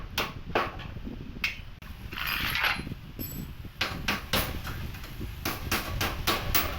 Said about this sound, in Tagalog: Tapos tanggalin na natin lahat ng lumang tornilyo.